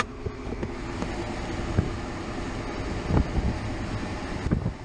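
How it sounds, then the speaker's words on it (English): Steady wind rushes through the open window of a 1995 Chevy Silverado dually pickup while driving on the road, a constant moderate roar with occasional low bumps and thumps. "All I hear is wind."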